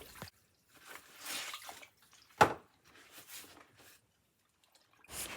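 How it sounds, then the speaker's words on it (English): Dyed silk scarves are rinsed and squeezed out in a basin of water, giving quiet sloshing, dripping and splashing in separate bursts, with one sharper splash partway through. "And then rinse it around and squeeze it out and put it on the tray."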